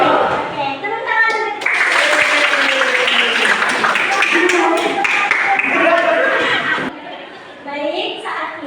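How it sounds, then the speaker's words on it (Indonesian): Children in a classroom clap together in a dense, steady burst, with excited young voices and shouts mixed in throughout before the noise tapers off near the end. "Oke, tepuk tangan."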